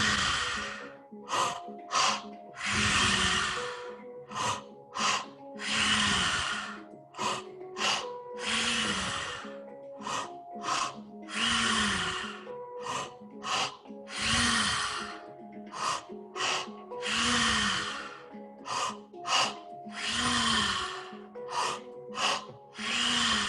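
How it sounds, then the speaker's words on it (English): Heavy, rhythmic breathing during a guided breathwork exercise, with forceful inhales and long exhales repeating in steady cycles, close and loud, with occasional short sharp breaths and no talking. "Keep breathing."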